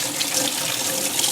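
Cold tap water runs steadily into a sink while a chicken is being washed, a close, continuous splashing hiss with no speech over it.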